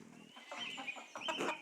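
Chickens cluck in a short burst of several close, quick clucks in the medieval video game Pentiment, with no talk.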